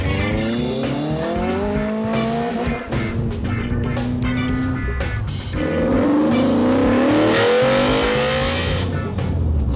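A rebuilt project car drives along the road, its engine revving and changing gear with rising and falling pitch, heard loud from inside the car with faint talk mixed in.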